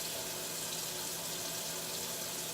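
Running water during a Yorkie's bath, a steady close rush and splash of water from a tap or sprayer filling a hand, with no voices.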